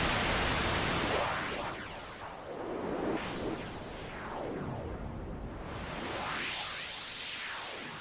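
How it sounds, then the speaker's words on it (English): Synthesizer noise runs through a state variable filter, a loud broadband hiss whose cutoff sweeps down and back up in slow whooshing arcs, steady and alone without any voice. "let's just add a bit of noise to this"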